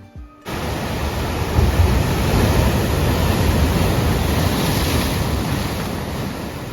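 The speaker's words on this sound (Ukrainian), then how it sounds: "хвилі докочуються до берега і з гуркотом розбиваються об каміння" Ocean surf at Big Sur's rocky coast, waves rolling in and crashing against rocks in a steady, loud roar of broken water with a gusty wind rush, continuous and close, no voices.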